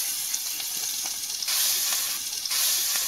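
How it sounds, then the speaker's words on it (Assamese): Onions sizzle in leftover fish-frying oil, a loud, steady hiss of frying that swells slightly at moments, with no talk. "মাছ ভজা তেলখিনিতে এয়া পিঁয়াজ দি দিছোঁ"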